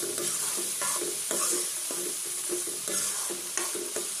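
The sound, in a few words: stirring gori krecek stew in a frying pan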